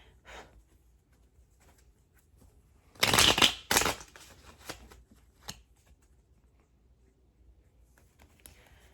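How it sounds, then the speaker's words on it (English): Tarot cards are shuffled close up in a quiet room, giving two short, crisp riffling bursts and then a few faint taps and rustles. "Now let me shuffle these cards."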